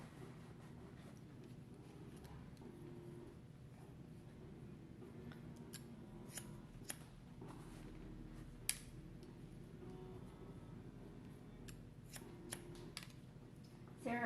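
Scissors snip hair during a wedge haircut, giving faint, scattered crisp clicks over a low background hum, with a few snips grouped more closely toward the end.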